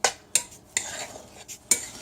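A spoon scrapes and clinks against a bowl while olives are stirred into a couscous salad, producing a few sharp metallic taps in an irregular rhythm, close and fairly quiet.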